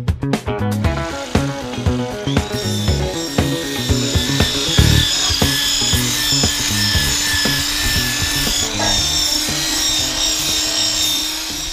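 Harsh, continuous scraping and rasping of metal against metal while cleaning an old Soviet frying pan, loud and close, with irregular strokes building into a steady grinding rub.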